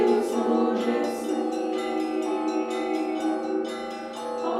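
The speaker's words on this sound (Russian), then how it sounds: "утром над храмом перезвон" Church bells ring over a church at morning, a full, sustained peal of overlapping tolls at moderate distance, steady and unaccompanied by talk.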